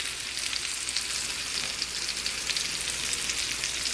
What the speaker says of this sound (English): I'm browning the last side